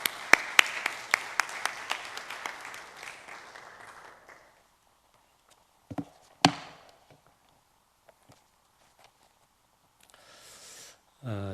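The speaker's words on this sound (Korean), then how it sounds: "먼 길 오셨는데 우리 박수로 맞이하겠습니다." A church congregation claps to welcome a visiting pastor: a burst of sharp, separate claps that thins out and stops after a few seconds, followed by near silence with a few scattered knocks and a brief rustle at the end.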